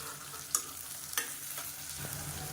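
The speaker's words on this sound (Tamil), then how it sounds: "வெங்காயம் நல்லா வதங்கிட்டு இருக்கு." Halved small onions, about thirty with coarse salt, sauté quietly in a pan for chicken varuval, a faint sizzle broken by a few light stirring clinks.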